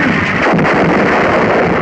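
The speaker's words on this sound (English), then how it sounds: "A direct hit on an enemy 88mm gun position." Artillery shell striking an enemy 88mm gun position in North Africa, heard as a loud, dense, continuous roar of blast and rumble filling the short clip without pause.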